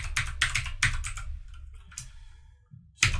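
Close typing on a computer keyboard during a coding session, a quick burst of clattering keystrokes, a pause with a few scattered taps, then a final loud keystroke.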